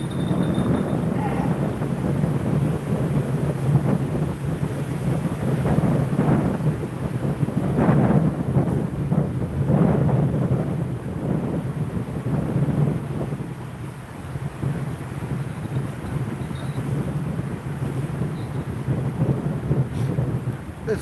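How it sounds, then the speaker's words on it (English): Strong wind roars and buffets the microphone in a continuous low rumble with gusty swells, loud and close throughout. "This wind really, really sucks."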